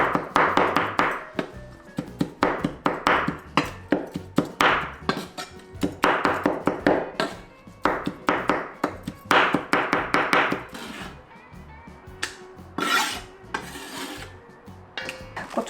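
A knife chops salted fermented shrimp on a board for cucumber kimchi, a fast run of sharp, close, rhythmic chops that slows to scattered strikes near the end.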